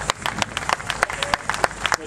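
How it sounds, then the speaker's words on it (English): Scattered applause and clapping from an audience at a Morrinsville car show prize-giving, irregular claps over a broad hiss, with talk mixed in. "Another round of applause,"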